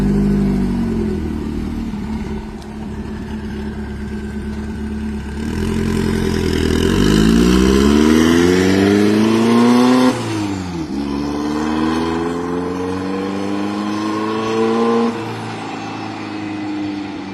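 A turbocharged 1,776 cc air-cooled engine in a 1972 Volkswagen Baja Bug, revving up in several rising sweeps, climbing and dropping back between pulls, loud and close with no talking.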